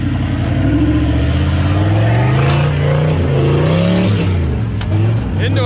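A 4WD's engine labours loudly at close range as it pushes up a steep dirt track, pitch rising and falling through revs, with a voice talking over the mechanical drone.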